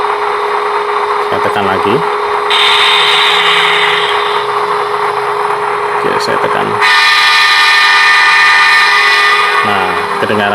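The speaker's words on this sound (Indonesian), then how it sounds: "ini tombol klaksonnya kedengaran beda" A model locomotive's digital horn sounds through a Roco Z21 DCC controller in loud, sustained electronic blasts, two long tones with brief pauses between them. Someone talks between the blasts.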